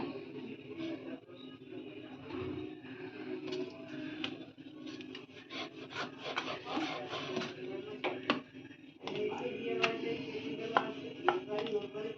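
Radhaballabhi dough, brushed with oil, being rolled out with a rolling pin, giving close, steady rubbing and knocking strokes against the board that continue throughout with a light background hum.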